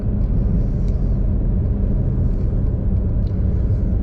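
A BMW E92 335i with the N54 engine launching hard with wheel spin: a loud, steady, low rumbling drone of engine and tyres, close and continuous, with no talk.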